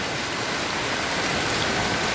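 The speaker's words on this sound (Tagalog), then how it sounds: "Yan na po mga kababayan, ang lakas ng ulan." Heavy rain pours down in Bulacan, a dense, even hiss of drops hitting surfaces, loud and constant with no voices.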